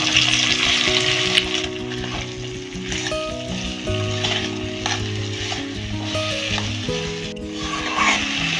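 Soaked, drained moong dal with carrot and beans frying in a pan for bhog khichuri, a steady sizzle with stirring scrapes over faint background music, no talking.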